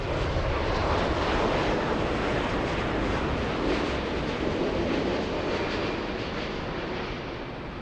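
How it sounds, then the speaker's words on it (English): A KLM Boeing 787-10 long-range airliner at LAX produces a broad, loud, continuous jet engine roar close by, holding steady and fading slightly toward the end. "We have the big blue KLM."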